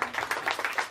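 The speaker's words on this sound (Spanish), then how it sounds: "Y a todos los niños a aplaudir" Children clapping together at a birthday party for a 15-year-old, a rhythmic series of about a dozen fairly quick, even claps at moderate distance, with no voices over them.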